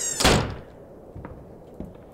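Wooden door creaking open in the horror game Candles, a loud thud at the start followed by two fainter knocks and creaks in a quiet room.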